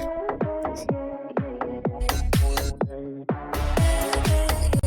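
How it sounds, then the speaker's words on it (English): A punchy, gritty EDM drum-and-synth loop plays alone through tube distortion, its repeating hits crunchy and saturated with a warm, distorted edge. "Then you can add like some distortion here, some tube distortion."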